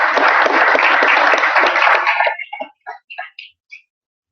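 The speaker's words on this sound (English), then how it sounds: "round of applause for Chris Braden." An audience applauds a speaker at a fitness talk event, with dense clapping that holds steady for about two seconds, then thins out into a few scattered final claps and stops.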